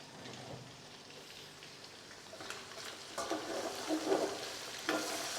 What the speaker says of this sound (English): let everything fry